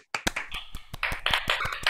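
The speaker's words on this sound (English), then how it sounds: "let's applaud all our singers today and pianists" A small audience at a university vocal masterclass applauds singers and pianists with distinct, close hand claps that quicken into a ragged, uneven patter after a quiet start.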